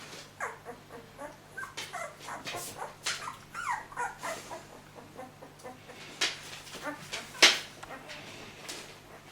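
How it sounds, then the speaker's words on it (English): Ten-day-old Bully Kutta puppies whimpering and squeaking close by, a busy run of short high cries with one louder yelp near the end, over a faint steady hum. "So, these pups, 10-day-old pups."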